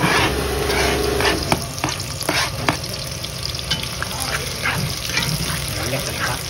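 Onions sizzle and fry in a pan during Surinamese home cooking, a steady crackling hiss broken by scattered clinks and stirring scrapes, close by, with faint talk in the background.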